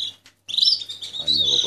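A canary chick chirps to beg food from its parents, a brief high twitter that starts after a short pause and then runs on in near, fairly loud repeated tweets.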